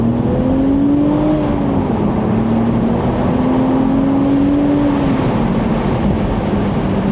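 BMW Z4 M40i with its 335-horsepower engine pulling hard in sport mode, a loud steady drone heard from inside the car that climbs in pitch and then drops at each gear change, repeated twice.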